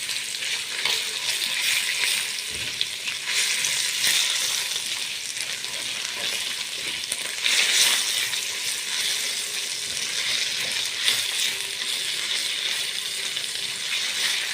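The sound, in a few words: tomato paste and sugar frying in pot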